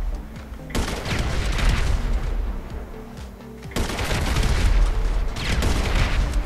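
Sustained gunfire in GTA 5 online, with dense bursts of shots and booms filling the whole stretch, loud and close, surging again after a short lull.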